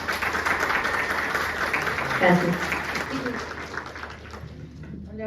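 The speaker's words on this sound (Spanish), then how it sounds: "démosle un fuerte aplauso nuevamente" An audience at a national research seminar claps in a sustained round of applause that fades away after several seconds, with a voice briefly speaking during it.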